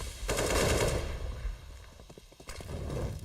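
Rifle fire in a CS:GO match rattles in rapid clustered bursts, loud and close, with a pause in between before another volley.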